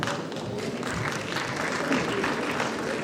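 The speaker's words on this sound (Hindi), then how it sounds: "मैं आपसे पूरा निवेदन करूंगा कि तालियों को शोर करने देना चाहिए प्लीज" Steady, dense applause from a large audience at a university convocation ceremony, continuous and even throughout, with a faint murmur of voices underneath.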